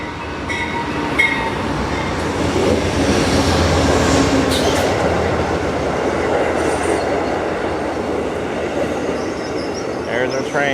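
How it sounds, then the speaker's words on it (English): An Amtrak train rumbles steadily into a station, with clattering wagons and faint metallic squeals, loud and close, with people talking in the background. "There's our train."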